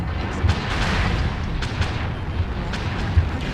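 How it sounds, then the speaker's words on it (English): A mech's weapon blows up in MechWarrior Online, giving heavy booming blasts over a dense rumble of battle, with several sharp thuds standing out along the way. "Weapon explosion detected."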